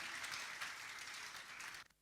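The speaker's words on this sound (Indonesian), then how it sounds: "Kita berikan tepuk tangan bagi Yesus kita." A church congregation claps together in a dense, lively burst of applause that carries steadily for about two seconds before cutting off abruptly.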